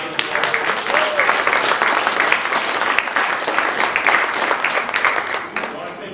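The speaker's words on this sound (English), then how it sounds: "Let's give them a big round of applause." Sustained applause from an audience gathered to celebrate a new Monmouth facility, loud and dense clapping that holds steady throughout, with a few voices mixed in.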